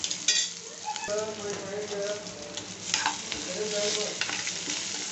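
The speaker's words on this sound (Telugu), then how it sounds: "ఇట్లన్నీ వెజిటేబుల్స్ అన్నీ యాడ్ చేస్తే ఇది ఒక టూ మినిట్స్ వేగనిద్దాం" Vegetables for Maggi noodles sizzle and fry in a pan while being stirred, a steady close crackle with occasional utensil scrapes, no talking.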